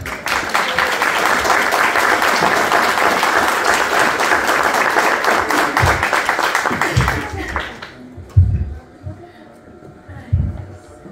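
Guests at a fifteenth birthday debutante party give dense, sustained applause for several seconds, then it thins out into a few scattered claps under crowd murmur and talking.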